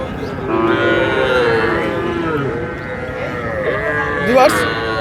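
Cattle, small and large, moo loudly and repeatedly, long low drawn-out calls overlapping one another amid a busy background of people talking at a livestock market in Dinajpur.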